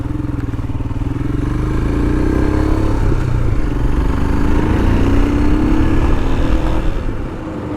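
A Royal Enfield Himalayan adventure motorcycle riding along a road, its steady single-cylinder engine thumping loudly and closely under wind rush, with little change in pace.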